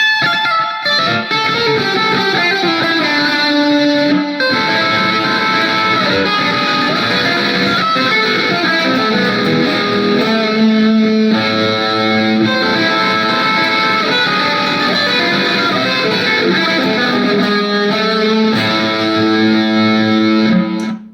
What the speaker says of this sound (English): We'll do some reverb on the distortion.